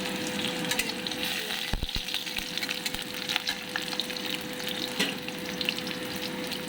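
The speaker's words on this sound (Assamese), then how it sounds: "জিকা বাকলিটো অকণমান তেলত অকণমান ফ্ৰাই কৰিছোঁ" Steady oil sizzle and crackle from ridge gourd peel shallow-frying in a little oil, continuous and close, with a few sharp clinks of a utensil against the pan.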